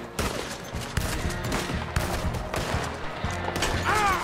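Rapid, loud gunfire from the video game Red Dead Redemption 2 fills the moment, a dense fusillade of overlapping shots with no talking.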